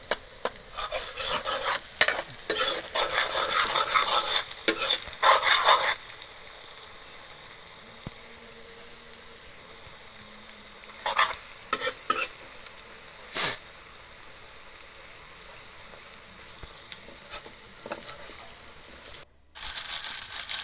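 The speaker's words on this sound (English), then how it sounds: "Potatoes are cut into pieces. And you have to stir frequently." Beef and potatoes with spices fry in a pan in village-style cooking, with a faint sizzle under bursts of stirring scrapes that are dense at first and come in scattered clusters later; no speech.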